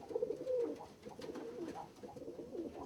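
Rare-colored roller pigeons coo faintly in soft, rolling, repeated phrases, with the low murmur of a loft around them.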